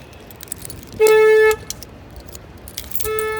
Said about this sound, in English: Everything goes back in the neon. I gotta, of course the horn goes off.